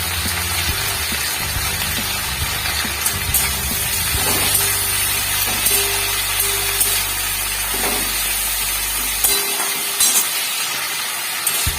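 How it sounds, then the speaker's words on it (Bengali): Flat beans (sheem) fry in a pan, giving a steady sizzling hiss with a low hum that cuts off near the end, heard without any talk. "সিমটা ভালো করে ভেজে নিতে হবে"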